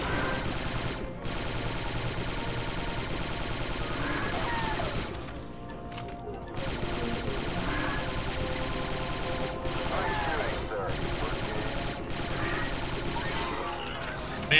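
Gunfire rattles almost without a break in the video game Star Wars: Republic Commando, with dense, loud bursts through most of the stretch and a brief lull. Voices talk over the shooting.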